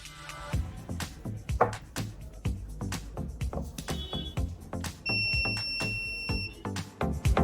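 A homemade touchless sensor doorbell alarm, a DIY electronics project, gives a steady high electronic buzzing tone for about a second and a half over loud, rhythmic background music.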